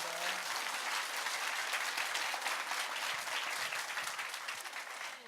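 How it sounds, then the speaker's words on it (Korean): Audience applause for two history professors at a humanities concert-lecture on Joseon leadership, a dense, steady roar of many clapping hands sustained throughout and fading slightly at the end. "여러분 신병주 교수님과 김호 교수님께 다시 한번 큰 박수 부탁드리겠습니다"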